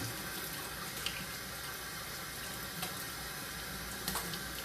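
A tap runs steadily in a continuous gentle stream, with a few faint clinks over the flow.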